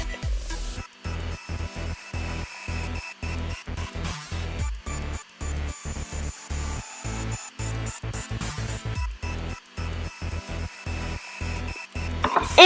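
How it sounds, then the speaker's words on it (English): Rhythmic back-and-forth rubbing of micro mesh pads by hand on an epoxy resin bowl made with colored pencils, close and fairly quiet, repeating strokes with short pauses, no talk. "I just went with the micro mesh again just by hand and sanded all the way through the grits."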